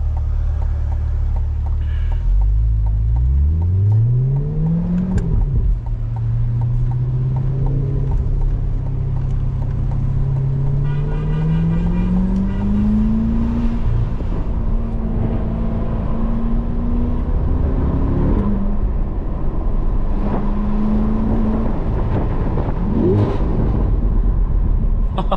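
A C8 Corvette's engine drones and rumbles while driving, with one sharp rev climb near the start. The close, steady engine sound rises and falls through gear changes.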